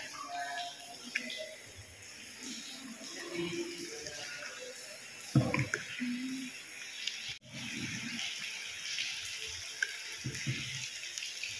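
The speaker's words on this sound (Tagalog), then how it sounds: "Bawat isang nilikha na nakapaligid sa iyo mula sa tubig na patuloy na tumutulo sa bato." Water drips and trickles onto rock inside the limestone cavern of the Palawan underground river, a steady wet patter with echoing splashes and a few louder drops, close and continuous with no talking.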